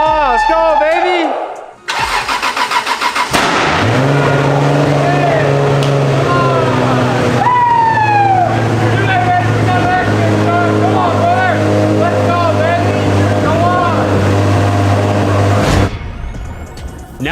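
A Toyota Supra MKIV with a 2JZ engine cranks briefly and then fires, settling into a loud, steady idle with a strong low drone that holds for over ten seconds before dropping off. Talk can be heard over the engine.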